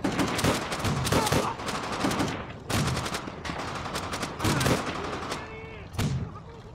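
Machine gun fire and scattered gunshots in a Call of Duty: World at War campaign battle, loud bursts in several rapid volleys with short gaps, mixed with battle noise and shouted voices.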